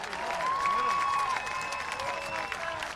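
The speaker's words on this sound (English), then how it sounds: "Nice round of applause for Republic Youth Football Director Joe Whitworth." A crowd applauds a youth football director at a high school football game, broad clapping somewhat distant and mixed with whistle-like tones and background noise, steady for a few seconds.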